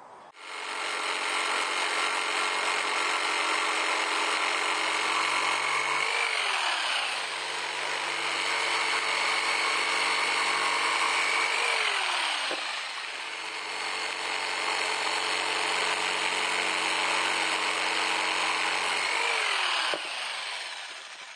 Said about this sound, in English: Alright, let's get all the wood cut down now.